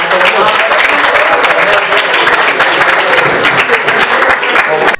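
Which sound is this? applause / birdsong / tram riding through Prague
applause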